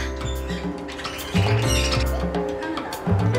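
Birds at a petting zoo give loud, harsh squawks and chirps close by, repeating over a steady low background hum.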